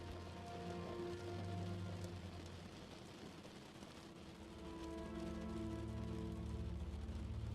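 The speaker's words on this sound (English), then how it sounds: "the gentle sound pattern of water droplets affirm your every relaxing sensation" Steady rainfall with water droplets pattering on surfaces, a soft, continuous hiss that rises gently toward the end, heard alone without voices.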